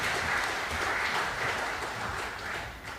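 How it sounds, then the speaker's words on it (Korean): Steady applause from a church congregation during a Sunday service, a dense continuous patter of clapping lasting throughout without pause. "우리 시온 찬양대를 위해서도 박수 한번 해주시죠."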